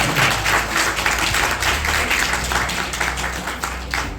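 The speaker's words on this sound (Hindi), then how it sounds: "एक बार जोरदार प्रभु के लिए ताली बजा दें" A church congregation at a Resurrection Sunday service bursts into loud, sustained applause, a dense wash of many hands clapping together that holds steady for several seconds and tapers slightly at the end.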